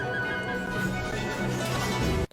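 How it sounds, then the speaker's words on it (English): An old man rides a donkey in the video game Where Winds Meet, with a loud, close braying whinny and clip-clop hoofbeats running steadily for about two seconds before cutting off. "It's an old man riding a donkey."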